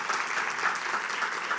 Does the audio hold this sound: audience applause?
yes